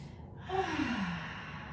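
A single slow, deep breath let out as a soft sigh during a gentle beginner's yoga flow, heard close and quiet, with no talking.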